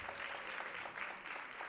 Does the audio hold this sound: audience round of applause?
yes